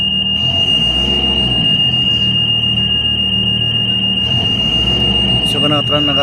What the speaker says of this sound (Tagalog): So naka transport mode oh. Transport mode alarm.